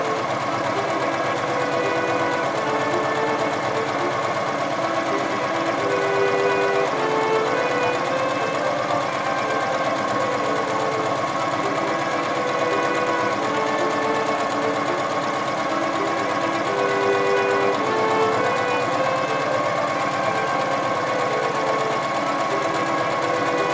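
A sewing machine runs steadily, stitching fabric for a reusable shopping bag, with a continuous close mechanical whir and rapid needle chatter at constant speed throughout and no talking.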